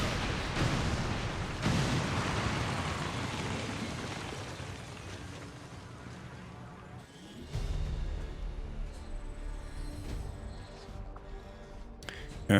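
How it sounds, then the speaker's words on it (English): Detonating charges in XCOM 2 set off a loud, sustained rumbling blast that rolls on for several seconds, then gives way to a lower, steadier roar with scattered crackles and a sharp pop at the end. "Squad is clear. Detonating charges."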